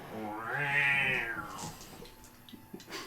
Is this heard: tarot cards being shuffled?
no